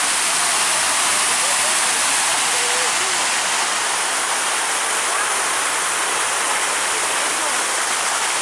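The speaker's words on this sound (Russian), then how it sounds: "Фонтан замечательный просто." A fountain splashes on a city square in Khabarovsk, a steady broadband rush of falling water that stays constant and fairly close throughout, with no clear talk over it.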